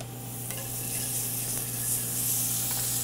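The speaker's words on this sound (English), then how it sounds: "we're gonna add some butter to a hot pan" Butter sizzles steadily in a hot pan, a close, even hiss with a constant low hum beneath it and no talking.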